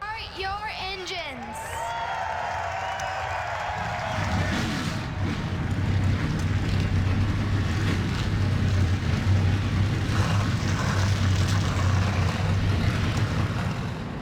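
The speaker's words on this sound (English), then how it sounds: "engines fired, cars rolling off here for the Michigan International Speedway" Race car engines rumble and roar as cars roll off at Michigan International Speedway in a NASCAR racing video game, a steady droning engine chorus under continuous commentary speech.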